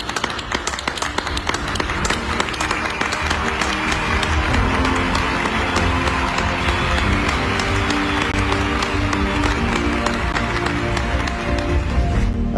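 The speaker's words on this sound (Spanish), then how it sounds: "Hoy mi aplauso va por ustedes." Sustained applause from many people for health workers, dense continuous clapping with crowd noise filling the whole stretch at steady loudness.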